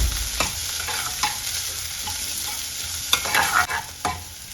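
Chopped onions fry in hot oil for an egg sambar, a soft steady sizzle broken by scraping stirs of a spoon against the pan, close up and with no talk.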